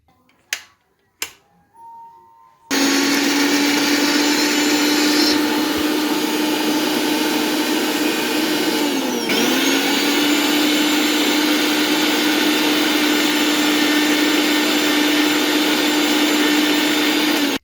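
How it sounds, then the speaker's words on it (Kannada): A small mixer grinder jar whirs loudly and continuously as it grinds coriander leaves, green chillies and ginger into a fine paste, after a few brief clicks and knocks at the start. "ಒಂದು ಸಣ್ಣ ಮಿಕ್ಸಿ ಜಾರಿಗೆ ಕೊತ್ತಂಬರಿ ಸೊಪ್ಪು, ಒಂದು 4ರಿಂದ 5 ಹಸಿಮೆಣಸಿನಕಾಯಿ, ಶುಂಠಿಯನ್ನು ನುಣ್ಣಗೆ ರುಬ್ಕೊಳ್ತಾ ಇದ್ದೀನಿ"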